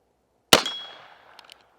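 A single sharp gunshot rings off a cheap homemade metal target holder, a loud clang with a bright ringing tail that fades over about a second, followed by a couple of faint small ticks.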